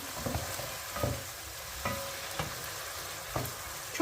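Chicken pieces sizzle steadily in a hot pan, with a few soft clinks and scrapes of a utensil stirring now and then.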